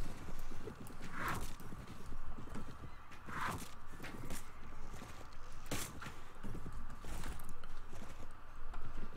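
Horse hooves in the Mount & Blade video game (Floris mod) during horse archery, a steady rhythmic clatter running throughout with a few sharper accents, moderately loud with no talk over it.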